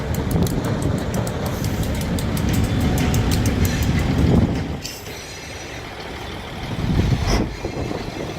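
Ohio Central Railroad Super 7 locomotives 4092 and 4094 pass close by on the Byesville Scenic Railway, with a loud sustained rumble, clattering wheels and a sharp squeal as the train goes by.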